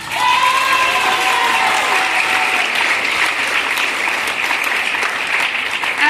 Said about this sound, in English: So can we give these students a round of applause?